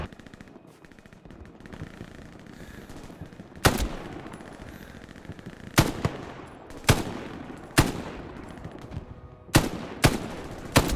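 Gunfire in the World War II shooter Hell Let Loose: a string of sharp, loud shots rings out with irregular spacing, each followed by a short echoing tail, over a low rumbling battlefield backdrop.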